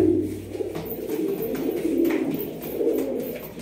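Black high-flying pigeons coo steadily in a loft, a low throaty warble rolling on continuously with several birds overlapping, close by and moderately loud, with no talking.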